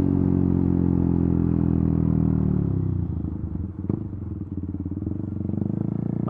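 A motorcycle engine roars close by, then the note drops and turns to a rough, pulsing rumble as the rider brakes hard with the front brake.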